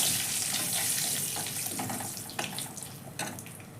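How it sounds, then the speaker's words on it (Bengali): Black cumin seeds and a dried red chili crackle in hot oil, making a close, steady, hissing sizzle with a few sharper pops and no talking. "এবার দেব ফোড়ন। প্রথমে দেব কালো জিরা, তারপরে দেবো একটা শুকনো লঙ্কা"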